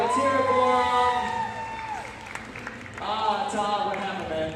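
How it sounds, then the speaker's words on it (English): A crowd cheers and whoops for the finalists at a live event, with applause and excited shouting in loud bursts and voices talking over it. "big round of applause for your finalists"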